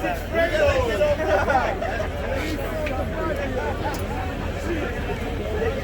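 Steady crowd babble from a large New York political rally, many overlapping voices and scattered shouts forming a continuous murmur at moderate distance.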